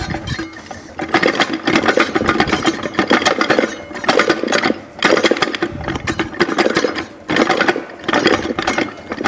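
An automatic transmission drum from a 350 gearbox being wiggled and turned to seat its clutch plates, giving repeated metallic rattling, clinking and grinding in bursts with brief pauses, loud and close, no talking.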